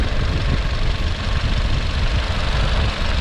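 A 2013 VW Passat B7 with a 1.4 TSI 122 hp engine and DSG gearbox idles steadily, a loud, close, even low rumble with a smooth, regular pulse and no voices.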